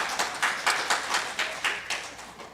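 A church congregation gives about ten separate claps at an even, unhurried pace, each one sharp and bright against a quiet hall.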